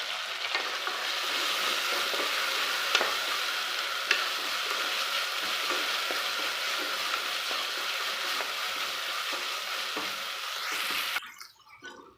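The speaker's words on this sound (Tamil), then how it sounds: "ஒரு 2 தக்காளி, அதையும் இதிலே சேர்த்து வதக்கிக்கலாம்" Tomatoes and mint sautéing in a pan for a millet tomato rice dish, a steady close sizzle with occasional spoon scrapes and stirring clinks, fading out near the end.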